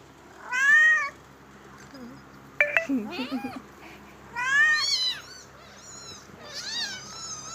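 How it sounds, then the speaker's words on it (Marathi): Several kittens meowing as they crowd onto a packet of milk: repeated high, drawn-out mews in bursts, fairly close, with a short stretch of other voices and noise between the calls. "मांजराची पिल सारी दुधाच्या पुड्यावर तुटून पडली सारी"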